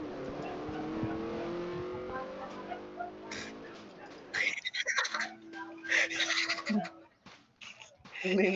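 A car engine in the video game Dusty Trip revs and drones steadily at first, then gives way to choppy bursts of louder, harsher engine and crash sounds, with faint voices in the mix.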